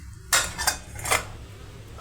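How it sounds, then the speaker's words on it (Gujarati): A spoon scrapes and clinks against a bowl while pounded green chilies are stirred into gram-flour batter, with a few distinct metallic taps and a soft scraping in between. "અને એને આ બેટર સાથે મિક્સ કરી દઈશ"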